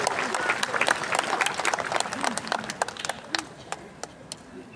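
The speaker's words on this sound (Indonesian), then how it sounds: "saya minta tepuk tangan khusus untuk Romo Yos" A seminar audience claps for a priest in a burst of dense, close applause that thins into scattered, slowing claps over nearly five seconds, with faint murmuring voices underneath.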